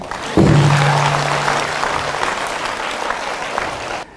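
Audience applause in a monastery lecture hall, breaking out suddenly and holding steady as a dense, evenly sustained clatter of many hands until it stops abruptly; a low tonal hum sounds briefly at the start.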